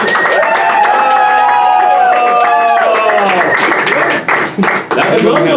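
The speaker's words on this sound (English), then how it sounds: "please give a round of applause" An audience at a mock primary event applauds and cheers for a candidate, with shouts and whoops over a wash of clapping that thins out toward the end; voices are also heard.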